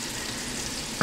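A ribeye steak sizzles steadily in a cast iron pan greased with bacon fat and butter, a dense, even hiss that swells briefly louder at the very end.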